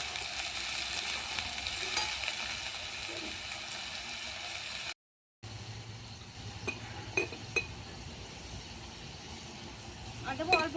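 Cut potatoes go into a pan of dried red chillies already fried in oil, with a steady close sizzle that stops briefly, then resumes more quietly with a few metal clinks from stirring.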